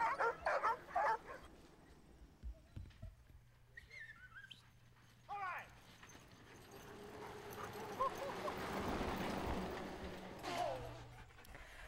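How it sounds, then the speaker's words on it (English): Sled dogs being hooked up for dog sledding in Bristol in August bark, yip and whimper excitedly, scattered calls near and farther off over a rising outdoor rumble and shuffle. "Shall we get the dogs hooked up and show these people what it's like to do dog sledding"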